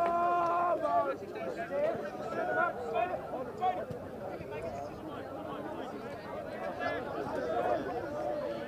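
Steady crowd chatter from spectators at a boys' school soccer state final between St Patrick's and Guilford Young, a continuous babble of voices at moderate distance, with occasional shouts rising above it.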